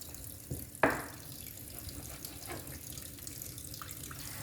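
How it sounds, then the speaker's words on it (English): Water runs softly from a tap in a steady stream, with a brief clunk and faint splashes as beef shank is rinsed under it. "we can start to wash the meat"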